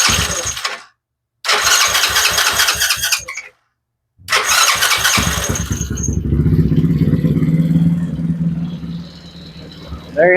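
A Tao Tao 125 ATV cranks on its electric starter in two loud bursts separated by silence, then catches on the third try and settles into a steady idle close by.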